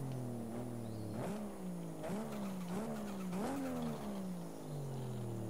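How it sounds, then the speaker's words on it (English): Nissan S15 with a 620 hp twin-turbo RB26 engine in Forza Horizon 5, its engine droning and rising in repeated surging revs with tire skid squeal, loud and steady with no talk. "Can hear those turbos going mad."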